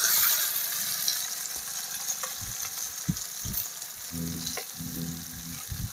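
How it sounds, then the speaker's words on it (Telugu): Capsicum and mixed vegetables sizzle steadily in a hot pan, while a utensil scrapes and stirs in a few soft, uneven strokes near the end. No one speaks over the frying. "మళ్ళా లైట్గా కదిలిస్తూ, అంటే అడుగున ఉన్నవి మాడిపోకుండా ఉండే విధంగా కదిలిస్తూ ఉండాలి"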